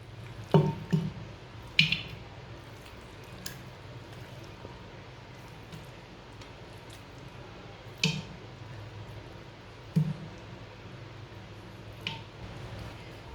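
Pieces of meat dropped into a clay cooking pot, giving a few faint, soft wet squishes and drips, mostly in the first two seconds with scattered single plops later, against a quiet background.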